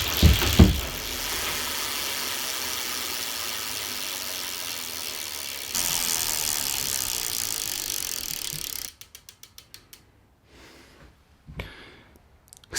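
Bicycle rear hub freewheel ratchet buzzing steadily under a loud hiss of wind and handling noise, then clicking in short rapid bursts as the wheel slows near the end.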